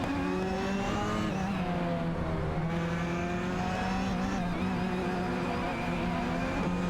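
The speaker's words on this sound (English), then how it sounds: "Raphael and Laserlost in the Renault 19 are vying with Gary 710 and MYST 149 in the Peugeot 406 for 3p" Race cars in an AI racing video game, including a Renault 19 and a Peugeot 406, drone steadily with layered engine tones that rise and fall as they accelerate and jostle, loud and continuous throughout.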